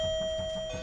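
A doorbell chime, brought in for a true-crime reenactment, rings as steady sustained electronic tones over a faint low rumble, loud and close with no talk.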